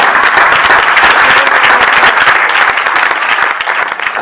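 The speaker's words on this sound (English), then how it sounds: "Let's give Dr. Walker one more round of applause." Loud, dense applause from an audience at a recognition week ceremony, many hands clapping close and continuous for a few seconds, with a slight easing toward the end.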